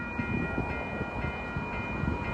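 An old train rumbles past along a greenway near a station, a steady, loud, continuous roar with faint rail clatter and no voices.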